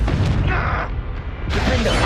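A Confringo fire-blast spell from Hogwarts Legacy bursts in a busy battle, with a short boom near the start and another loud blast about halfway through, both over a constant thick rumble of game noise.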